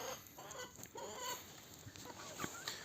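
Soft, high chirps and peeps from turkey poults, scattered irregularly over a quiet background hiss with no one talking.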